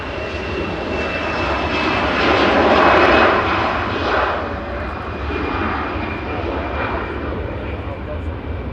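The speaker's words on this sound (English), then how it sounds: "EasyJet rolling to Dalaman. GZUA flight 2143. Airbus A320." An easyJet Airbus A320 jet engine roar at Manchester Airport, a loud sustained broadband rumble and whine that swells and eases slightly as it passes, with a voice talking faintly underneath.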